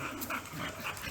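Dogs give a quick burst of whimpers and small yips nearby, a brief run of excited whining sounds without any speech.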